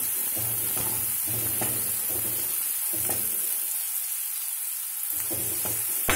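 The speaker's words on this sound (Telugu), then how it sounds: "ఆనియన్ వేగుతుంది కదా" Chopped onions, salted, fry in a pan for an egg and leafy greens curry. A loud, steady, close sizzle is broken by brief stirring gaps, with no talking.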